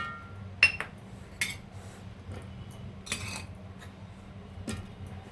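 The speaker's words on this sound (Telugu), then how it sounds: "ఇవన్నీ కూడా మనము ఇలాగ మిక్సీ జార్లో వేసేద్దామండి" Dates, cashews, almonds and raisins land in a mixer jar for homemade lassi, making a few sharp, scattered clinks and ticks against the jar, close and fairly soft over a quiet background.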